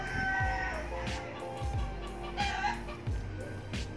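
Several chickens clucking and squawking close by, overlapping calls in short bursts amid outdoor background noise.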